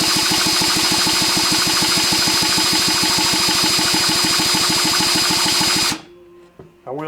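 A Stihl 064/066 chainsaw rebuilt as a 56mm, 99cc big bore spins over in a fast, even, mechanical pulsing that runs loud and steady for about six seconds, then cuts off abruptly, leaving faint clatter.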